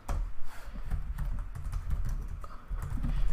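Rapid clicking keystrokes on a computer keyboard as a full name is typed, a close, dense patter of taps with brief irregular gaps.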